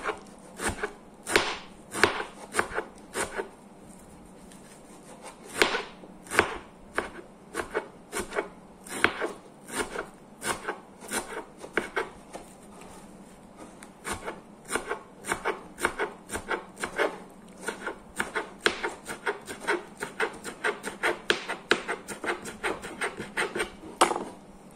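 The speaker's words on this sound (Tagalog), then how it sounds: "natapos na natin gayatin ang ating parsley" A knife chops parsley on a cutting board in rapid, sharp taps, sometimes in quick bursts and sometimes spaced apart, close and clear with no talking over it.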